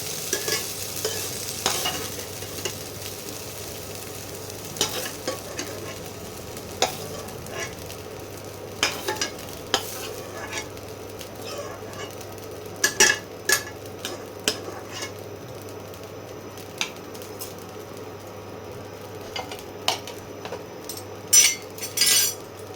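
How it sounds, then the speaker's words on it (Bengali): Spinach ghonto ingredients fry in oil in a wok, a steady sizzle broken by frequent ladle scrapes and metallic clinks against the pan throughout. "কাঁচা গন্ধটা যাওয়া অবধি এটা ভাজতে হবে, লাল লাল করে ভাজা যাবে না"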